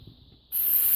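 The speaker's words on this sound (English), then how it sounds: "spray a little bit of that on it" Choke cleaner sprays from an aerosol can in one continuous, close, loud hiss that starts abruptly halfway through and keeps going to the end.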